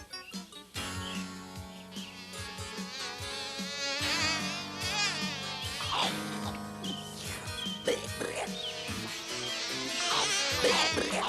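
A cartoon swarm of bees buzzing in a field of honeybells, a whining insect drone woven through lively animated music and effects.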